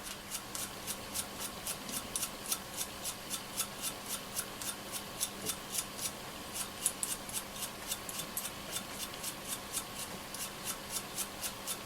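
Rapid rhythmic scratchy rubbing strokes, a fibreglass pencil scrubbing back and forth on metal contacts of a Yaesu FRG-7700 HF receiver, close up and quiet, steady and even.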